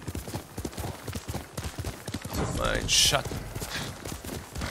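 Galloping horse hooves in the video game Ghost of Tsushima, a steady rapid thudding rhythm close by, with someone speaking briefly over it and a sharp bright swishing burst near the end.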